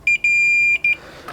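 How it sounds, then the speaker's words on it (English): Multimeter beeping in continuity-test mode while probing a Tandberg power amplifier: a loud, piercing electronic tone in stuttering bursts, three short chirps, one long sustained beep, then two more quick chirps, with no talking. "Sometimes when you put it on continuity, you'll get this kind of activity"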